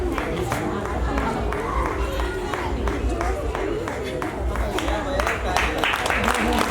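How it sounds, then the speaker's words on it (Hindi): An audience applauds at a school day celebration, a dense, steady wash of clapping that rises and falls slightly, with a voice talking over it. "हाँ, तालियां बजनी चाहिए भाई।"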